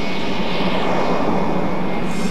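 A North American F-86 Sabre swept-wing jet fighter roars steadily overhead, a loud, close, unbroken engine rush with no voices.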